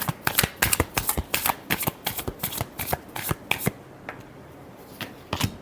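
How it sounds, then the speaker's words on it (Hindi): A deck of tarot cards being shuffled: a rapid series of crisp riffling slaps in steady rhythm, close and clear, stopping near the end with one last brief snap and no talking. "Last shuffle."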